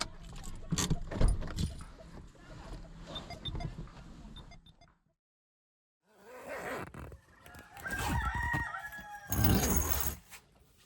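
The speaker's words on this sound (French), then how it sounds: "Ce matin, réveil en douceur avec le bruit du coq." A rooster crows outdoors in bursts in a village in Senegal, with rustling and handling noises around it and a short quiet gap in the middle.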